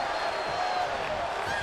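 A wrestling crowd cheers and roars in an arena during a women's match, a steady wash of noise under commentary.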